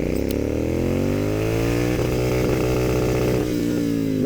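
A Royal Enfield GT 650 twin-cylinder motorcycle accelerates hard in a single gear, its loud close exhaust note rising steadily in pitch throughout.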